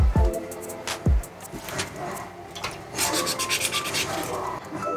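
A carbon fiber mirror cap from a BMW F30 is wet-sanded by hand with 400 grit sandpaper. Soft rubbing strokes scrape back and forth, with a couple of brief knocks at the start.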